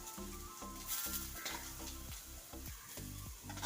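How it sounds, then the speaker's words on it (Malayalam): Grated coconut roasts in coconut oil in an iron wok, a faint continuous sizzle with a rhythmic series of about eight spatula scrapes as it is stirred. "തേങ്ങ വറുക്കുന്നതിനായിട്ട് ഒരു ചീനച്ചട്ടി അടുപ്പത്ത് വെച്ചിട്ടുണ്ട് അല്പം വെളിച്ചെണ്ണ ഒഴിച്ചു കൊടുത്തിട്ടുണ്ട് ചൂട് അതിലേക്ക് നമുക്ക് തിരികെ തേങ്ങ ഇട്ട് കൊടുക്കാം"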